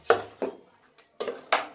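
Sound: stirring food in a cooking pot

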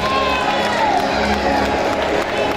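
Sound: audience applause

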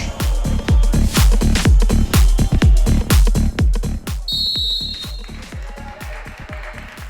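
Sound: referee whistle starting second half

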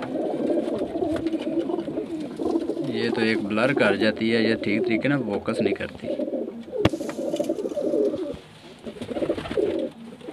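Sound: pigeons cooing

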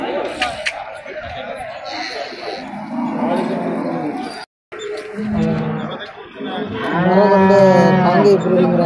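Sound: native cattle mooing at a cattle market

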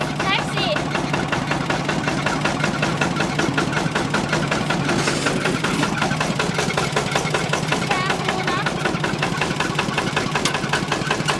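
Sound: taxi engine idling

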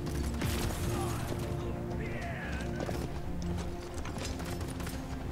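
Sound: horse hooves galloping in the video game Paladins

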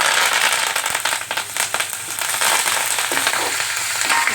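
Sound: dry red chillies and curry leaves sizzling in tempering oil

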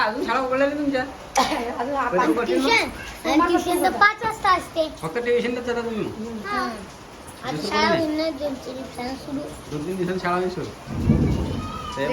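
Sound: rain

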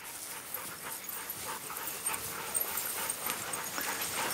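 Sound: dog panting and whimpering

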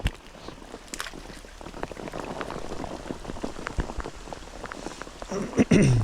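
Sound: rain

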